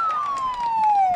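An ambulance siren sounds in a single slowly falling wail, loud and close, with faint background noise.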